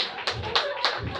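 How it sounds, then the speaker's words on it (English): A stand-up comedy audience claps in a few scattered, uneven bursts after a hesitant pause, the sharp hand slaps fairly close and sparse rather than a full ovation. "Thank you for the delayed clapping."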